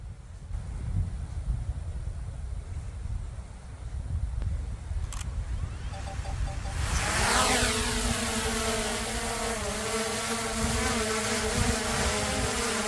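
A DJI Mini 3 Pro drone spins up and lifts off outdoors in wind, its whining propeller buzz rising abruptly from low background rumble and holding steady and fairly loud with layered tonal hum.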